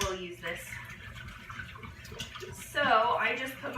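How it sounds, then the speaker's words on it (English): Water is poured into an Instant Pot, a soft splashing stream under a person talking, which swells into a louder, brighter gush near the end. "So I just put my water in here"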